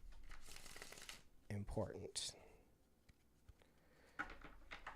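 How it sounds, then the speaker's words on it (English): A deck of tarot cards being shuffled by hand in a few short riffling bursts, close and fairly quiet, with a voice speaking between them. "I think that's enough shuffling."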